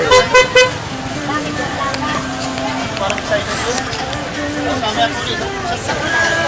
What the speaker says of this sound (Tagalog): Traffic na naman dito sa Carmen Planas.